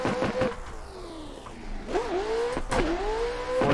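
Engine of a Formula Drift car on a sequential gearbox in the Assetto Corsa racing game, pulling through fourth gear with rising and falling revs and sharp shift blips, loud and close throughout.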